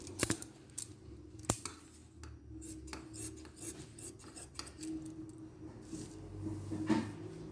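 Scissors cutting fabric along a marked line for a body cone short gown: close crisp snips at the start, then continuous soft rasping and rubbing of blades through cloth, fairly quiet, with no voices.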